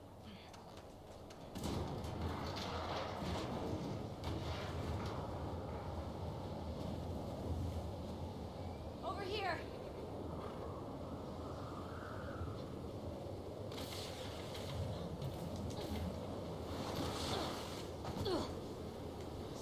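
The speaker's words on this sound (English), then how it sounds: "Careful when you get up here. It's pretty windy." Steady wind roars throughout, a broad airy rush with gusts, in The Last of Us Part II, while a voice speaks briefly early on.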